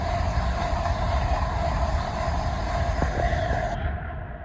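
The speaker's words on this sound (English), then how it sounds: "Here we have a GWR IET coming from London Paddington to Swansea" A GWR IET train runs from London Paddington to Swansea past Ealing Broadway on the Great Western Main Line, a loud steady rumble and roar of wheels and traction filling the whole span with a faint high whine, close by and without talk.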